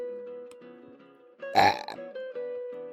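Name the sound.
burp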